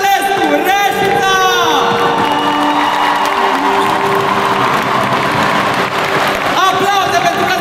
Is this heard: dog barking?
no